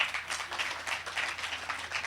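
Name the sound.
audience applause at spiritual camp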